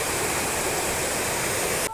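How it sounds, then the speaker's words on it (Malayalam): Steady rushing water pours from one village pond into another, the broad splashing roar continuous and close for nearly two seconds before cutting off abruptly. "ഇത് അപ്പുറത്തെ കുളത്തുനിന്ന് വരുന്ന വെള്ളമാണ്."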